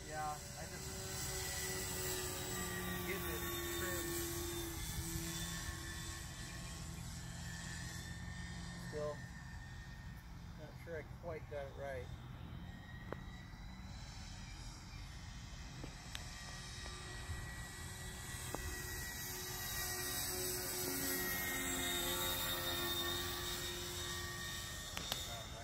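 A model airplane engine drones steadily in flight, distant and faint, with a continuous buzzing tone that shifts slightly in pitch as the plane passes, under a constant outdoor wind-like hiss and occasional quiet voices.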